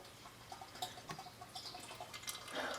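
Engine oil drains from a truck's oil pan as a faint, steady trickle with scattered drips, heard close and quiet with no talking.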